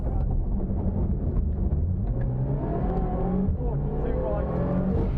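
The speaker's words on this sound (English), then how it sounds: "This time the exhaust starting to blow after a particularly rough run through stage 4." A rally car with a blowing exhaust drones and revs loudly and continuously on a gravel rally stage, its engine note rising and shifting, with a voice talking over it.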